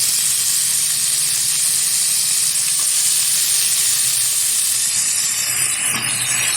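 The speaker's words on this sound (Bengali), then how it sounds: "এক আটি মতো থানকুনি পাতা দিয়ে আলুটা নেড়ে ফেলে নেবো।" Potatoes fry in a pan with thankuni leaves, giving a loud, steady hiss and sizzle that runs close and unbroken throughout with no talking.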